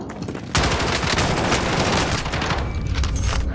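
Sustained automatic gunfire in the shooter game Call of Duty: Modern Warfare. A loud, close fusillade of rapid shots starts abruptly after a short lead-in and continues without pause to the end.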